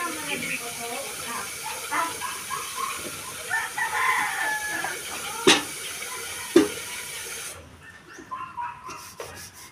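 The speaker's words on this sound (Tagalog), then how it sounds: "mga manok na nasa tangkal" Chickens cluck and a rooster crows in a coop amid a cluttered background of rustling and scraping, with people talking nearby.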